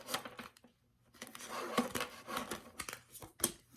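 Soft papery riffling and light slaps of cards being shuffled in bursts, close by, with a brief pause near the start.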